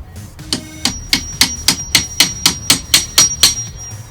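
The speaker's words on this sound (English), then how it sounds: "We're going to use a hammer." About a dozen sharp hammer blows ring out in a steady, even rhythm, close and loud, with a metallic tone on each strike and no talking, while prying wooden trim off a screened porch.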